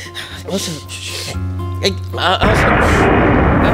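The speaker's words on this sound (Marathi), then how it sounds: "विजांचा कडकडाट खूप होतो, त्यामुळे हे होतंय, जरा आवाज येतोय जास्त." A thunder crash in a Marathi comedy skit set during an airplane trip: people talk at first, then a loud, broad rumble bursts in and roars on without stopping.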